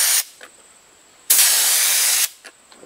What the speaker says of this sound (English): I don't want to get it on this shiny white glaze, so I'm kind of spraying it